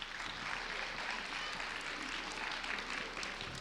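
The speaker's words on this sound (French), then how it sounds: "On peut l'applaudir." An audience applauds at a school pleading contest final in Compiègne, steady dense clapping filling the room at moderate volume, with no voices over it.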